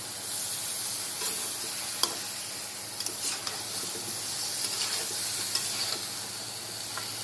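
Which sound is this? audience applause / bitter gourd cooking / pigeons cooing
bitter gourd cooking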